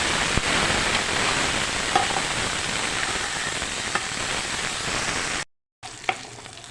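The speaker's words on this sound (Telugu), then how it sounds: "ఇప్పుడు ఇందులోకి అల్లం వెల్లుల్లి పేస్టు పచ్చివాసన పోయేదాకా ఫ్రై చేయండి" Ginger garlic paste sizzles and fries steadily in a pan with occasional stirring, a dense crackling hiss that cuts out briefly near the end before a short clink.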